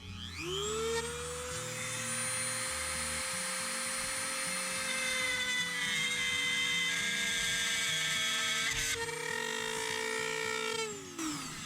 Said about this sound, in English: let's go ahead and get this hole drilled